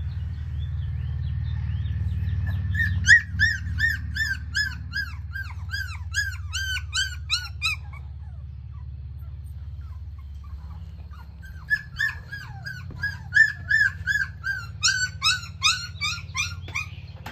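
A young puppy whines and squeaks in repeated high, plaintive bursts, falling quiet briefly before a second run of complaining whimpers, over a steady low background hum.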